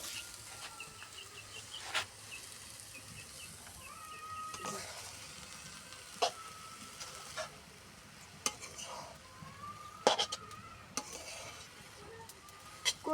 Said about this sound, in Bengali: এখন তোমার কড়াই বড়, তুমি নাড়তে পারতেছো।